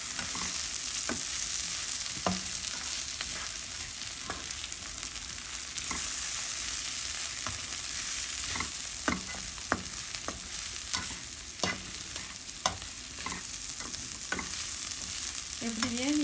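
Idiyappam kottu mixed with egg is stir-fried in a pan, giving a continuous sizzle punctuated by frequent sharp scrapes and clacks of the spatula against the metal.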